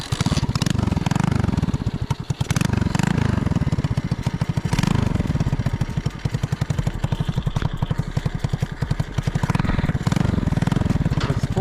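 A 125cc four-speed manual mini chopper engine runs close up with a loud, rapid, steady pulsing chug, a small single-cylinder putter that swells slightly at moments and continues without pause.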